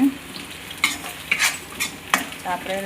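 Onions are tempered in a hot pan, sizzling and frying steadily, with a few scraping stirs of a utensil against the pan, close and without talk.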